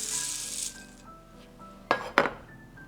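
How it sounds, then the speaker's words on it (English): Dry granola ingredients, including pumpkin seeds, are poured into a bowl. A brief rustling pour is followed by two crisp, close clinks against the bowl. "I'm putting all my dry ingredients in the bowl first."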